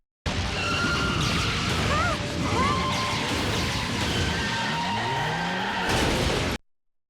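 A car skids and crashes in a Transformers Prime episode during a storm, with a loud smash and screeching tires followed by metallic clatter. A sustained, dense crash stays full and steady before cutting off abruptly.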